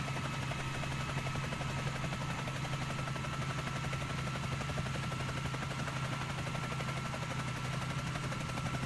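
Bell 47J Ranger helicopter in Microsoft Flight Simulator, a steady rapid rotor chop over a constant low engine drone and whine, unbroken and even throughout.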